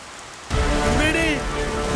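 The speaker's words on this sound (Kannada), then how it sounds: "ವಿಪರೀತ ಮಳೆ, ಗಾಳಿ ಕೂಡ ಬರ್ತಾ ಇದೆ" Heavy rain with wind sets in abruptly after a quieter opening, a dense steady wash of noise that stays loud to the end, with a faint tonal sound drifting through the middle.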